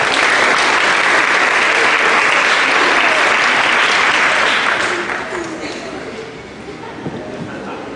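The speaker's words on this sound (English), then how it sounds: "Let's have another round of applause for Miss Younger student." Loud, dense applause from a school award ceremony audience fills the space for about five seconds, then thins and fades into scattered lingering claps.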